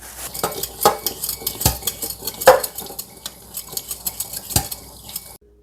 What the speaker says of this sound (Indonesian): Goreng kentang untuk dimasak.